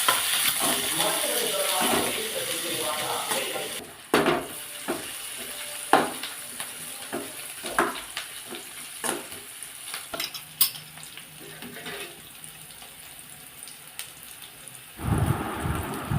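Sliced onions sizzle in hot oil in a pan with cinnamon, cloves and cardamom for parotta salna. A steady frying hiss runs under repeated scraping stirs and a closing clatter.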